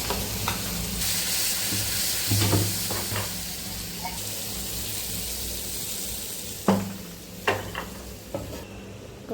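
Mustard seeds crackling in hot oil as a tempering, poured into green gram sambar, make a steady close sizzle with a few sharp pops and clinks of a pan and spoon.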